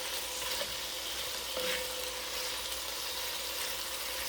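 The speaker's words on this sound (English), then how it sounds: "We're just going to let these sizzle for a few minutes" Red beans and rice ingredients sizzle in a pot, a steady, even hiss of frying that runs throughout, with a faint scrape or stir heard once.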